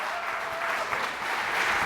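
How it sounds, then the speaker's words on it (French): Audience applause fills a conference hall at a UX event, a steady dense wash of many hands clapping at moderate level with no pause, faint and fairly distant, no voices standing out above it. "On les applaudit bien fort."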